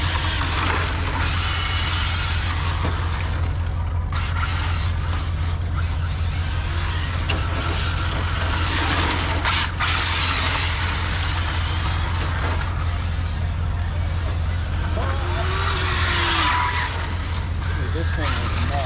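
Arrma Infraction V2 RC car tearing along at full throttle, a loud, continuous high-pitched motor whine with gritty rolling and skidding texture throughout, close to the microphone, with excited voices over it.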